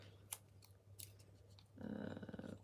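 Scissors snip through a paper die cut in a quiet room: a few sharp, separate clips, then a short run of close, crisp cutting.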